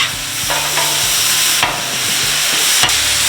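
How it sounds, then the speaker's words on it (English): Butter sizzles and crackles loudly on a hot Blackstone flat-top griddle, a steady frying hiss broken by a few sharp spatula scrapes, with no talking. "we're going to throw a little bit of butter in there"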